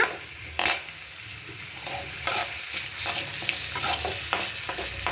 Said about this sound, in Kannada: ಎಣ್ಣೆಯಲ್ಲಿ ಫ್ರೈ ಮಾಡಿಕೊಂಡು ಇದು ಸ್ವಲ್ಪ ಈರುಳ್ಳಿ, ಬೆಳ್ಳುಳ್ಳಿ, ಹಸಿಮೆಣಸಿನ್ಕಾಯಿ